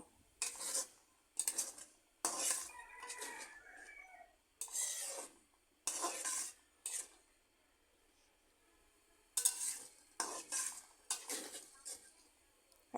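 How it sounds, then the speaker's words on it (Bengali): Spice mix being stirred and sautéed with onions in a pan for Bengali egg curry, heard as bursts of scraping and clinking of a utensil against the pan with quiet gaps between strokes. "এবার মিক্স মশলাগুলো পেঁয়াজের সাথে কষিয়ে নিতে হবে"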